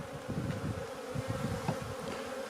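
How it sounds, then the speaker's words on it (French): Honeybees, a mixed stock including Italian bees, buzz steadily around test hives while resting in the sun, a soft continuous hum with a few nearer wingbeats passing. "Là, on voit quelques abeilles qui se sont posées, qui sont en train de se réchauffer au soleil"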